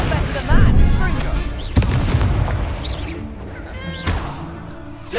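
Confringo fire spell blasts in the Hogwarts Legacy video game, a series of booming explosive bursts cutting through spoken spell incantations and battle taunts, with sharp impacts near 0.5, 1.8 and 4.1 seconds.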